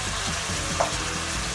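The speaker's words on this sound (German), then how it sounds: "Schön anbraten." Meat sears in a cast-iron Dutch oven over a grill, giving a loud, steady, crackling sizzle that fills the whole moment with no voices.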